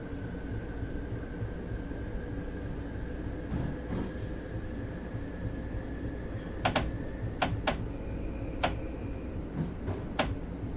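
A Long Island Rail Road commuter train runs along the line in the Train Sim World game, a steady rumbling drone with a sustained tone and several sharp clicks near the end.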